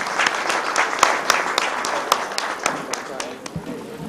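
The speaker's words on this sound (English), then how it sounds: "A huge round of applause, please." An event audience gives a round of applause, dense, continuous clapping with sharp individual claps standing out, fairly close and even throughout.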